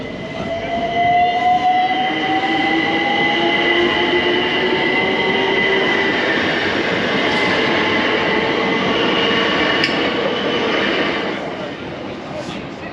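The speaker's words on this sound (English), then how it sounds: "Okay, the train is first coming." A train rumbles loudly past a level crossing at Acton Central at close range for about ten seconds, with a sustained horn-like tone and rail noise before it fades.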